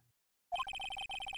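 A short electronic phone tone, a rapid series of pulsed beeps lasting about a second, plays alone after near silence.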